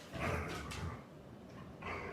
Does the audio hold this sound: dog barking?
yes